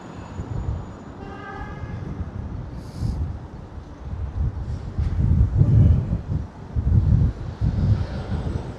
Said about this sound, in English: that's a wind. That's very much a wind.